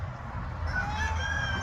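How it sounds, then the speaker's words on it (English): Chickens in a farm chicken run cluck and crow softly at close range, a continuous low flock murmur with a rising call, no talk over it. "You want to stay here with the chicken?"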